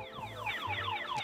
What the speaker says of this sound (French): Je vais arrêter l'alarme.